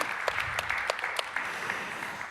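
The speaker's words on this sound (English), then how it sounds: "Give him a big applause for that" Applause for a startup pitching program winner at a tech arena event, a steady crowd clapping with scattered sharper claps over about two seconds.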